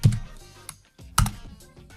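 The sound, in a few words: typing on a computer keyboard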